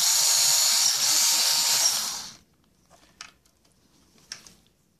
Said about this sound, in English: And basically, I'm screwing this back first.